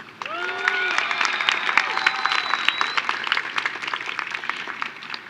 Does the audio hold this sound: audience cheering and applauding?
yes